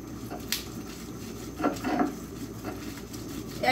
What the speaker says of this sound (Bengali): এই যে পেঁয়াজ, কাঁচামরিচ, ধনিয়া পাতা আর চিংড়ি মাছ, এগুলোকে বেটে নিব।